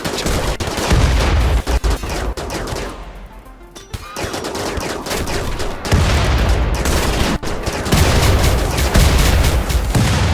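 A mass accelerator weapon in the RiftWorld mod of RimWorld fires sustained, loud, dense automatic volleys with heavy booming low end, briefly dipping near the middle before hammering on.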